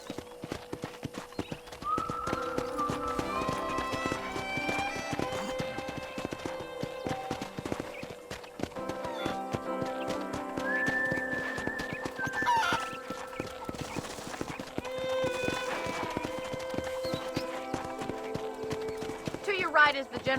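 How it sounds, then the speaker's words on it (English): Horse hoofbeats in the Red Dead Redemption video game as a rider tours a ranch, a steady clip-clop rhythm running throughout beneath game music and spoken dialogue, with a brief whinny. "let's see if you can still ride a horse"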